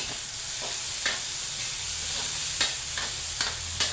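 Cabbage being stirred and sautéed in a frying pan, a steady bright sizzle with repeated scraping strokes of the utensil at irregular intervals, close and moderately loud, no talking.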